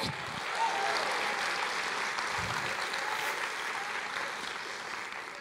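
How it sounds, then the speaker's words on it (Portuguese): A church congregation applauds in praise, a steady wash of many hands clapping that holds at an even level from start to finish. "Aplauda ao Senhor, diga eu creio."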